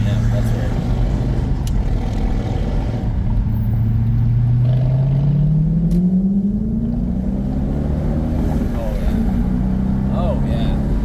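An Audi S4 engine climbs into higher RPM, a low drone rising steadily in pitch over several seconds, heard from inside the car with continuous road noise and a person speaking over it.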